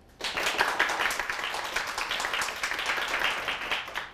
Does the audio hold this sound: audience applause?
yes